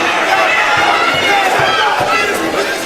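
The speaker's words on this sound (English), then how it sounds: "They're chanting T-Rex" A boxing arena crowd roars and chants during a women's fight between Claressa Shields and Hanna Gabriels, a loud, continuous wall of voices with rhythmic pulses in the chant.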